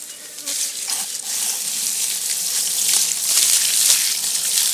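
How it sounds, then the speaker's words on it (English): Garden hose water sprays steadily over freshly dug turmeric roots, washing the soil off in a continuous close, hissing wash with small splashes and no talk. "I'll get my hose and wash this off and show you what it looks like"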